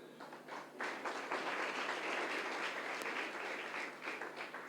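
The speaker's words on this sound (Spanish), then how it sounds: "den un aplauso a Pavel" A church audience applauds a volunteer, Pavel, called up front: a sustained wash of clapping that swells after a brief quieter start and holds steady at moderate volume.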